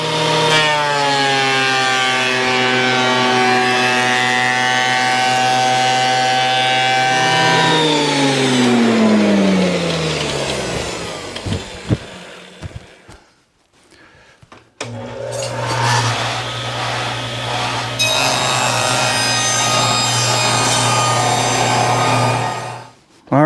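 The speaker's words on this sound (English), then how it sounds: "Next, we're going to run them through the planer before we cut them to width." Wood planer feeding boards, a loud steady motor whine that drops in pitch as the cut loads it, winds down, then starts again for a second pass.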